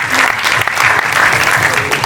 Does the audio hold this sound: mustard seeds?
no